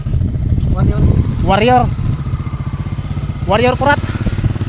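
A motorcycle engine hums steadily up close during a ride while a person talks loudly over it, with a passenger tricycle mentioned nearby.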